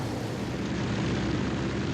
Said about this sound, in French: Le Broussard file à 80 nœuds, environ 150 km/h.